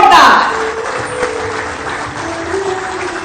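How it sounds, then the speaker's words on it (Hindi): Audience applause at a Jharkhand government event where the Chief Minister distributed appointment letters. A loud burst of clapping opens the clip, then settles into softer, steady applause with a voice over it. "आप सबकी तरफ से हम सभी के लिए तालियां हो जोरदार।"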